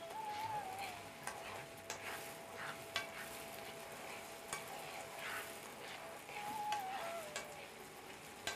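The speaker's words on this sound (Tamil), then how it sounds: "மிதமான சூட்டில் நல்லெண்ணையும் இந்த கீரை சாறை, அதாவது முடக்கொத்தான் இலைச்சாறையும் கலந்து காய்ச்சவும்" Sesame oil mixed with mudakathan leaf juice heats over medium flame in a pan, giving a faint, steady sizzle broken by soft scattered ticks and light stirring clinks.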